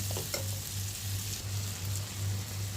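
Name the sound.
stirring tomato and salt frying in pan for dried fish curry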